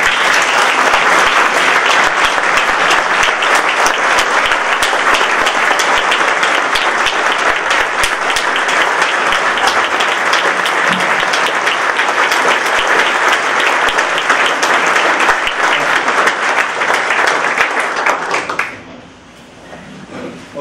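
Loud, sustained audience applause welcomes a Veterans Day speaker at a club event, a steady dense clapping that holds for about eighteen seconds before cutting off sharply into a quiet room.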